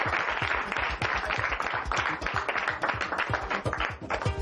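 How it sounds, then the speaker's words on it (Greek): A small classroom group claps together, brisk overlapping hand claps at close range with a lively uneven rhythm lasting several seconds. "Χειροκροτήστε τον."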